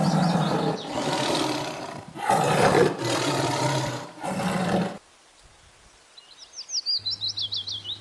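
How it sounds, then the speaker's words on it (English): A tiger roars in several loud, close bursts over about five seconds, followed by quieter chirping bird calls and a low hum. "T. T for tiger."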